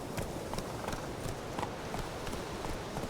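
Roach, a horse in The Witcher 3, trots steadily with a quick, even clip-clop of hooves on the ground, fairly close, over a faint background hiss.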